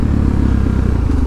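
A motorcycle engine revs hard and steady for a wheelie, a loud continuous roar with rough mechanical clatter up close.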